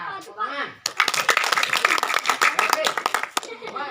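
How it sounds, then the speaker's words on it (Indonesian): A group of students claps hands in a classroom, a dense burst of close, sharp claps lasting about two and a half seconds after a brief voice, then tapering off. "Nah, tepuk tangan."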